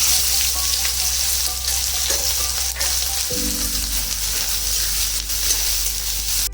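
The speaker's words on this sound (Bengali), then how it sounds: "এরকমভাবে পেঁয়াজটা ভাজা হবে" Chopped onions hiss and crackle loudly as they fry in hot oil with chilli and cumin, a close, steady sizzle with a low hum underneath and no talking.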